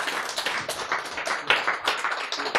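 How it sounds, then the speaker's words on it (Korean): An audience at a Korean church lecture breaks into a brief burst of uneven clapping, fairly faint and lasting only a couple of seconds. "박수!"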